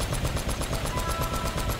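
Rapid, steady turret fire in Uncharted, a loud, close stream of evenly spaced bursts hammering continuously without pause and heard alone.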